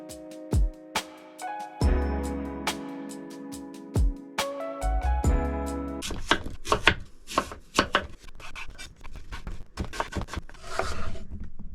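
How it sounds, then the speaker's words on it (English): Apples are peeled and sliced for an apple crisp in a van: scattered knife taps and scrapes give way to a fast run of crisp chopping cuts on a board, close and clear with no talk. "we gotta peel and slice up these apples"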